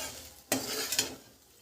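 A spoon scrapes twice through egg rice in a pan over a faint sizzle, two short clattering strokes, close and quiet, with no speech.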